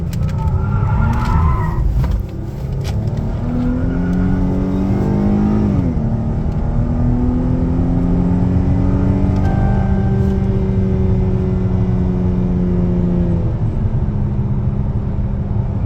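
A 2024 Dodge Charger with a 3.6 V6 and rear-wheel drive is driven through a roundabout: a loud, steady engine drone from inside the car, rising and falling in pitch as it revs, with a brief tyre squeal early on.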